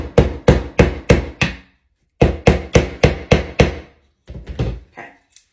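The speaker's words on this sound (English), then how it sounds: "then I have a small dowel that I want to hammer in." A small wooden dowel being hammered in, with sharp, evenly spaced knocks in bursts of five, a pause, six more, then a softer final group, loud and close with no talk.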